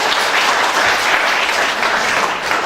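A performance audience claps in a dense, steady burst of applause, loud and close throughout with no talk over it.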